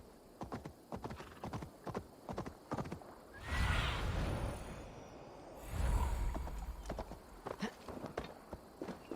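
Horse hooves plod in a steady, even clip-clop rhythm in the video game Assassin's Creed Valhalla, with a horse whinnying and snorting partway through, all fairly quiet and close.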